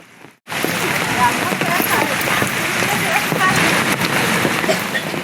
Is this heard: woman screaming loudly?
no